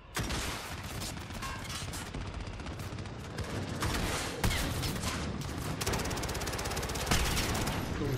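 Dense, continuous gunfire from Call of Duty Modern Warfare, rapid automatic bursts layered with single shots, loud and unbroken, with sharper blasts standing out near the middle and end.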